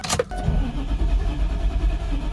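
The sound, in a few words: Ford F650 VT365 diesel truck engine starting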